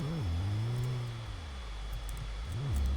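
A 4WD Niva's engine runs close by, its tone rising and falling with revs in a whooshing, vacuum-cleaner-like drone.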